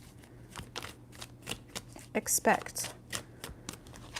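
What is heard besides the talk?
shuffling tarot cards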